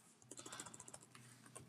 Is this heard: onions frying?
no